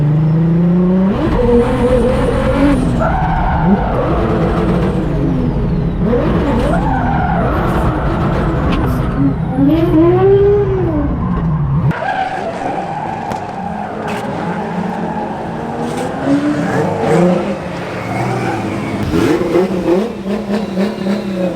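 A VW-engined Ferrari heads out onto a race track, its engine revving hard and climbing through gears, with repeated tire squeal and skidding, loud and close and alone throughout.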